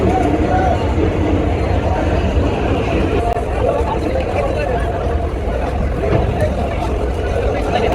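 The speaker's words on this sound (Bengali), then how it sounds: "প্রিন্স আওলাদ 10 লঞ্চ কিন্তু ধীরে ধীরে একটু গতি কমিয়ে দিয়েছে।" Prince Awlad 10, a passenger launch on the Barishal–Dhaka route, slowing down: a steady, loud engine drone and rushing water fill the whole stretch, with crowd noise and voices talking over it.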